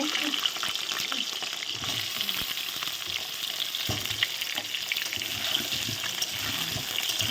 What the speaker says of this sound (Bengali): আর আলুগুলো এখন ভাজতে দিয়ে দেবো